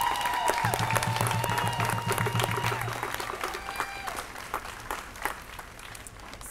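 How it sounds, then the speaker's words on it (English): At a PTA school rally, an audience applauds the students with sustained, fairly loud clapping and crowd noise. Voices and a tone are faintly audible beneath it. "Let's give them a round of applause."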